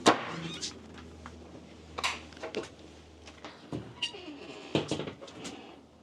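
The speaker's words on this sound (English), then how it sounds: "you can open both of these doors" Doors of a 2024 Airstream Flying Cloud 25FB travel trailer being opened, with scattered clunks, rattles and sliding scrapes at close range, several sharp knocks spaced unevenly across the clip.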